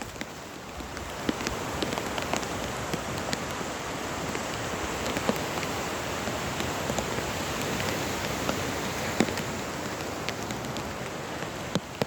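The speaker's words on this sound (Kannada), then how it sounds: "ಒಳ್ಳೆ ಮಳೆ ಬಂದಿದೆ ಸ್ನೇಹಿತರೆ" Heavy rain pours steadily onto surfaces, a dense, continuous hiss with scattered louder drops pattering close by, unbroken for the whole stretch.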